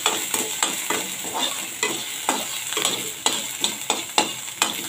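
Ground spices and turmeric powder roasting in a hot pan for aloo kachori, stirred with a steady rhythmic scraping over a continuous close sizzle, with no talking.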